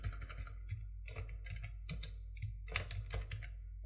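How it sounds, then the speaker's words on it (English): Close, quiet typing on a computer keyboard, an irregular patter of key taps with small bursts and short pauses, no voices. "So in here I can type old name."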